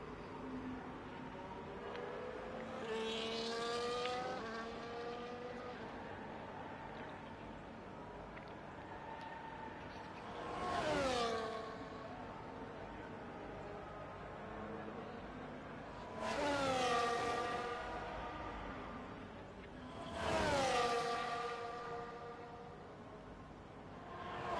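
F1 race cars in the F1 24 video game at the Japan circuit, each sweeping past with a rising then falling high engine whine, four separate passes spaced several seconds apart, with no one talking.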